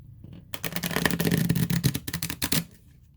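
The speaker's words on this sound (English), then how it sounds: "riffle shuffle." A tarot card deck is riffle shuffled nearby, a quick rapid flutter of cards lasting about two seconds, followed by a couple of soft taps as the deck is squared.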